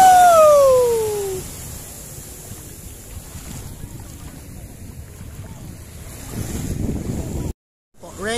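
Wind rumbles and water sloshes around a boat at sea off Infanta, Quezon, with a falling whistle-like tone at the start and a brief dropout near the end.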